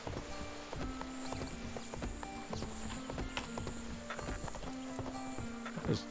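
Horse hooves in the video game ArcheAge, a steady rhythmic clip-clop of a ridden horse, fairly close and even-paced over a faint background hum.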